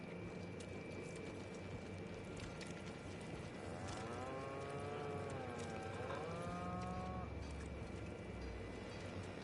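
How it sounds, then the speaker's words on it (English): Cows moo aboard a spaceship in The Outer Worlds video game, a few long, wavering low calls rising over a steady mechanical hum, moderately close, with brief talk around them. "Why are there cows?"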